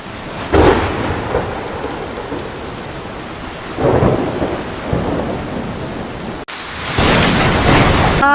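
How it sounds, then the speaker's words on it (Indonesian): A thunderstorm with steady, hissing rain, broken by two loud, rumbling thunderclaps, then a sudden cut to a louder burst of storm noise near the end. "Badai pun datang."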